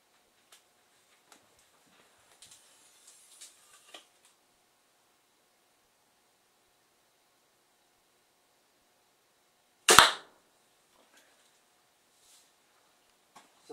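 A regular compound bow fires once in a basement, giving a single sharp, loud snap of the string that decays fast, with only faint scattered small clicks and handling noise around it.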